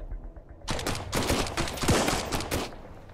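Rapid bursts from a laser gun in the video game Sunkenland, a quick string of loud, close shots starting abruptly and stuttering on for a few seconds.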